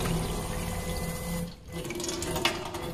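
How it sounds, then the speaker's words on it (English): A faucet runs, fed by a SEAFLO 56A water pump, giving a steady water flow with a mechanical pump hum beneath it. The flow dips briefly partway through, then resumes, and no one speaks. "If we turn on the faucet"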